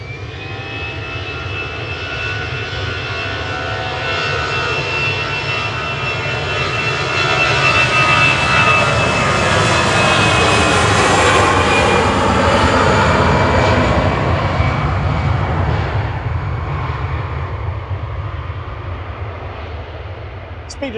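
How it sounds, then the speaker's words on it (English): An EasyJet Airbus A320 Classic roars down the runway at Manchester Airport on takeoff for Berlin, its loud, steady jet rumble swelling to a peak midway and slowly easing as it climbs away. "Speeding off there to Berlin for the evening, flight 2199 for EasyJet, GEZOU, A320 Classic"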